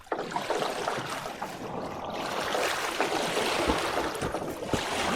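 Water splashing and rushing in The Witcher 2, a continuous close wash of sloshing and lapping with no speech.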